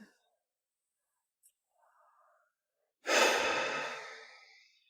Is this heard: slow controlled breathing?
yes